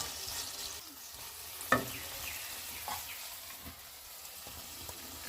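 Boiled pasta tossed into a hot frying pan with black pepper, giving a soft, steady sizzle and frying crackle with faint stirring scrapes and one sharper clink.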